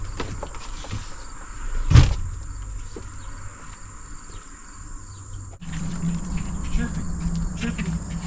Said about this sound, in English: Chirping crickets.